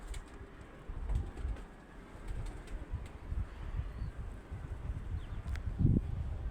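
Pigeons coo softly outdoors, with faint low murmurs and rustling scattered across several seconds and one fuller call near the end, all at a modest distance with no voices.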